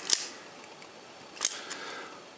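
An Olympus XA camera shutter fires twice with small, crisp clicks, each alone and close, about a second and a half apart, with a fainter tick just after the second one.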